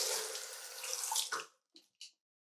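Water from a tap runs steadily onto a badger-hair shaving brush for over a second, then cuts off, followed by two brief faint drips or splashes in near silence.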